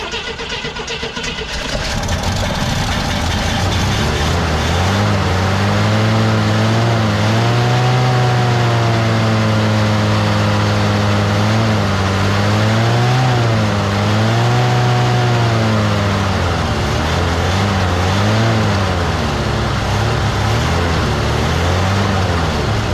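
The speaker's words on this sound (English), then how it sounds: "It's a sweet little motor, a little old 256." An old 256 engine in a Hemi-powered 1939 DeSoto coupe cranks and catches, then settles into a loud, close idle broken by repeated throttle blips that rise and fall, with no talking.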